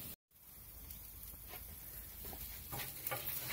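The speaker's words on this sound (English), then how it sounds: "Look at the sizzle." Steady, faint crackling sizzle of steak searing on a hot grill, a soft continuous hiss with small pops and no talking.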